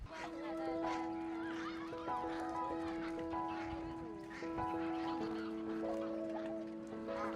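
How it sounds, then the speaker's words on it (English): Wild geese and ducks honk and call continuously at a UK bird reserve, a dense overlapping chorus of many birds near and far, with faint voices in the background. "Surrounding me now is already loads of birds"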